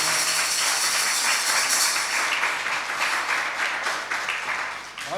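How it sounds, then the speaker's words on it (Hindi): Loud, dense applause from a gathering at a Jain temple farewell ceremony in Sarita Vihar, New Delhi, for a Pandit ji, sustained clapping that fades slightly toward the end. "सो ऐसे हमारे पंडित जी के लिए एक बार जोरदार ताली होनी चाहिए।"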